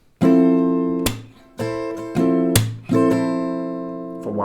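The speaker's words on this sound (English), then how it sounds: "The second version is to add a clap here into the song, into the strumming here." Acoustic guitar strummed in a few sharp downstrokes, with a percussive clap-like slap on the strings worked into the rhythm, close and loud with ringing chords between hits.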